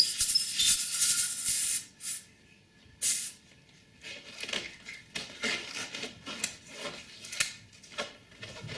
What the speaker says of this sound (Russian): выпускаем воздух из ШДМ